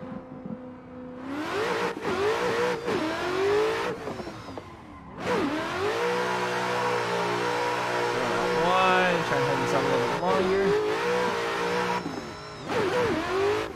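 A Toyota A70 Supra drift car revs hard through a tandem lead run, engine pitch sweeping up and down with brief lifts and tire squeal between pulls, loud and close throughout, with speech over it.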